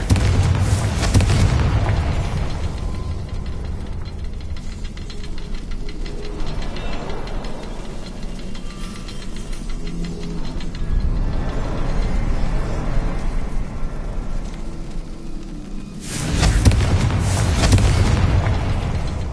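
Confringo fire spell explosions in Hogwarts Legacy, a Harry Potter video game, rumbling as loud, sustained booms with a strong low-end blast near the start and another heavy burst near the end.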